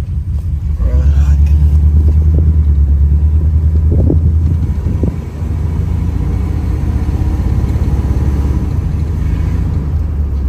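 A Chevrolet Cutlass engine runs steadily close by, a loud, low, rumbling idle that holds for the whole stretch, with a few brief knocks and clatters near the start.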